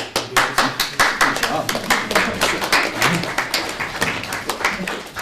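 Rhythmic clapping from an audience at a philosophy panel event, distinct individual claps in a steady beat at close range, with some voices underneath.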